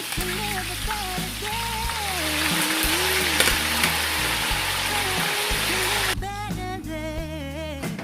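Steady, loud sizzling of beef frying with onions in a hot pan runs throughout, with background music playing over the hiss.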